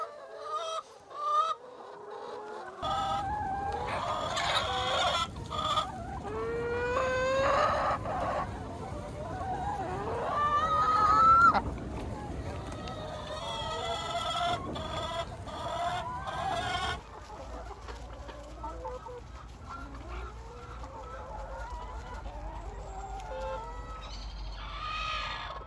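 Laying hens settling into a winter house, clucking and squawking up close in overlapping bursts, busy and loud at first and then easing to quieter calls over a low background hum.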